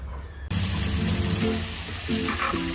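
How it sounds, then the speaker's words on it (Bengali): Chopped mushrooms and other omelette ingredients hit a hot pan, setting off a sudden loud sizzle that keeps frying steadily, with a few faint clinks of utensils near the end. "এবার জাস্ট ফ্রাই করবে ব্যাস সবকটা একসাথে দিয়ে তারপরে ডিম ঢেলে"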